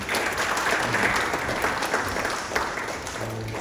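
Sustained applause from the audience at a Korean sports media society spring academic conference, a dense, even clatter of clapping hands filling the hall for several seconds without pause.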